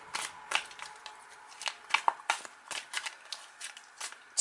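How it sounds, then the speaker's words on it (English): Quick rustling riffles of a Modern Day Witch tarot deck, stiff to shuffle, several short bursts in an uneven rhythm, close and moderately quiet with faint background noise. "So let's give them another shuffle,"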